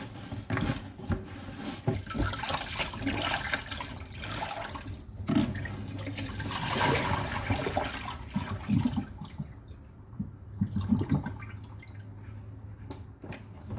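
Pork ears or pork face mask being rinsed in clean water in a home kitchen, with steady splashing, dripping and running-water sounds close by for the whole stretch and no talking.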